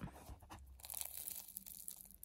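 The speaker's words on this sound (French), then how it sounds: "Vous entendez? Il y a un vrai croustillant" Crispy, flaky laminated pastry crackles and crunches in close, quiet bites, with irregular brittle snaps and tearing sounds.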